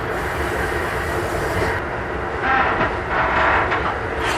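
A one-coach passenger train runs past on a railroad bypass, a loud, steady rumble with rolling wheel noise and brief squeals as it goes by close at hand.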